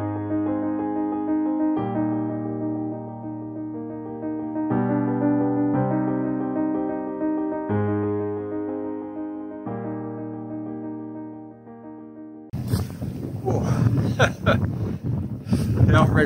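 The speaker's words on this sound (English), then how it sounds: "that wind's a bit cold now, so we're hunkered down" Cold wind at a Scottish loch buffets the microphone in loud, rough gusts during the last few seconds, following a long stretch of sustained musical tones.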